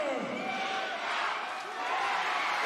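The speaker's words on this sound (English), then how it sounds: "this Sydney home crowd has found its voice" A packed Sydney home crowd roars at a WNBL women's basketball game between the Sydney Flames and Bendigo Spirit. The broad, sustained cheering swells steadily and carries on under a commentator's voice.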